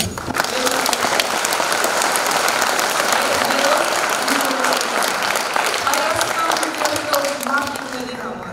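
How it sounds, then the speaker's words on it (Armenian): An audience at an event honouring heroes gives sustained loud applause, dense clapping that runs for several seconds with voices and some tonal sounds over it before easing off. "պետք է նախ բարձր ծափահարենք"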